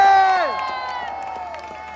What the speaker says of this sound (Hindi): तो तालियां हो जाए